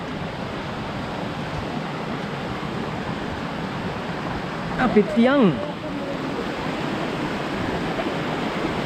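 Steady rushing stream water on the Hawagala trail, a broad continuous wash of flow throughout, with a brief burst of voices talking near the middle.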